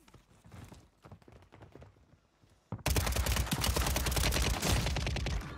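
Scattered gunshots crack through the Warzone 3 video game, then heavy sustained automatic fire suddenly takes over, loud and dense to the end.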